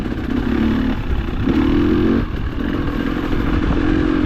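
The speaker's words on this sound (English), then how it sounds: "Flying Hugh on his Honda." A Honda motorcycle ridden on a cold, wet day rolls by with a steady, loud engine drone and some clatter, holding at close range for a few seconds with a short dip midway.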